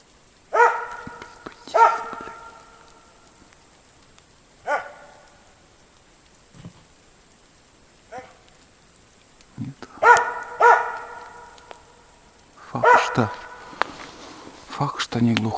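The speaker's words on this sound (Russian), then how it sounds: "Опять чувствует, на нее точно лает." A hunting dog barks in a forest at a squirrel or marten up a tree, in spaced bursts of one to three loud barks separated by quiet gaps, moderately distant and echoing.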